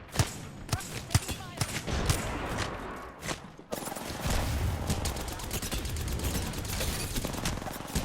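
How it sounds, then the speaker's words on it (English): Rapid bursts of gunfire from enemy platforms in a sci-fi shooter game crackle in dense volleys, loud and continuous with sharp individual shots, mixed with game mechanisms and occasional thuds. "Platforms are shooting at me"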